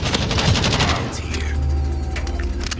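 Rapid bursts of automatic machine-gun fire in the video game Jurassic World Evolution 2 crackle over a steady low rumble, dense and loud throughout, with a voice briefly heard underneath.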